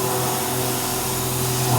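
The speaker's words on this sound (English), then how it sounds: "it's slowly working down and machining all this material away" A CNC mill cutting titanium 6Al4V stock for a herb grinder, a steady machine drone with sustained tonal whine and broadband hiss, close and continuous without pauses.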